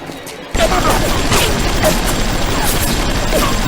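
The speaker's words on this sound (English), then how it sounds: "Let's see how you like anti-personnel rounds." Sustained anti-personnel rounds gunfire in the BioShock video game bursts in abruptly after a quiet half second, a dense, loud, continuous barrage of shots and impacts with mechanical clatter.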